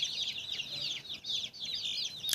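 Brood of the oldest chicks on a free-range run, a dense flock of high, shrill peeping cheeps overlapping continuously, close and fairly loud, with no talking.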